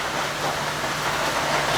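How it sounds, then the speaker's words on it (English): Steady rain falls outdoors in a metal finishing workshop setting, a dense even hiss of drops on surfaces, close and constant with no talk. "as soon as I get the camera out, it starts to rain"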